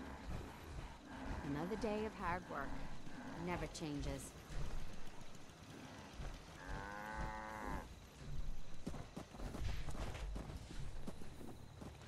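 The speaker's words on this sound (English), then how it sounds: "The cow's going crazy." A cow lows in the video game Fallout 4, one drawn-out harmonic moo rising partway through amid game ambience and footsteps, with someone talking over the scene before and after it.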